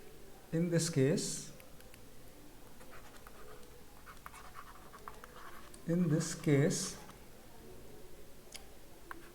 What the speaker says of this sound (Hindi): तो अब हम यहाँ पे लिखते हैं इन दिस केस